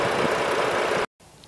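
A 2017 Ford Explorer's 3.5-liter V6 idles with a steady, close rumble that holds level for about a second before cutting off abruptly into near silence.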